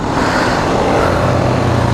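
A group of about nineteen motorbikes rides through Joypur forest in Bankura, their engines producing a steady, loud, close rumble that holds without pause.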